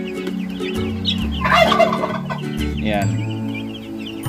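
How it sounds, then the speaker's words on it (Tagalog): A Rhode Island Red hen and her chicks cluck nearby in a busy, overlapping mix of low calls and higher peeps, and a voice speaks one brief word. "Nakapapisa na po ako sa Rhode Island Red. Ito po yung mga sisiyo niya."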